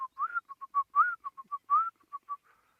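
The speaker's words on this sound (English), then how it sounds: "In the distance I can hear the black-collared barbet." A black-collared barbet gives a run of clear, whistled notes on a misty morning, some short and some swooping upward, spaced in a bouncy, uneven rhythm, fairly soft and alone.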